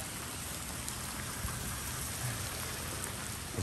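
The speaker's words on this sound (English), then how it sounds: "Today it's raining." Rain falls steadily on a summer day, a dense, even hiss of drops striking surfaces nearby, continuous and without pauses or voices.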